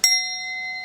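A single bell struck once in a guided meditation, a clear bright strike that leaves a pure ringing tone sustaining steadily with several overtones, heard alone and close.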